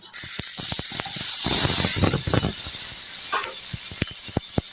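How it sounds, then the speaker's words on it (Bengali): Sliced onions hit hot oil left over from frying fish, setting off a loud, sustained sizzle and hiss that runs to the end, broken by sharp clicks of a spatula or utensil. "আর এখানে মাছ ভাজার তেলে দিয়ে দিচ্ছি পেঁয়াজ।"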